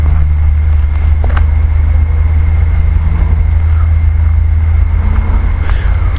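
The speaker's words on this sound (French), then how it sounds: "Oh, les bruits de voiture, hein." Cars passing on a nearby road, a loud steady low rumble of traffic with occasional faint clicks and knocks, continuous throughout.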